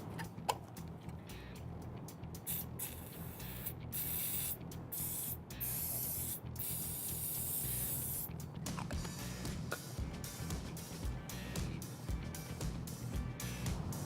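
Repeated hissing bursts of a spray bottle misting contact cleaner onto a motorcycle fork tube, several quick squirts in a row with short pauses, close and fairly loud over a steady background hum.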